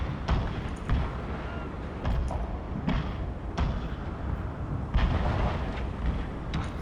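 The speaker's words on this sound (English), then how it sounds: "the gunboats are just straightforward firing anyway" Gunboats fire in a long-distance naval engagement in the strategy game Shogun II Total War, a string of heavy booming thuds at irregular intervals over a continuous rumbling battle din.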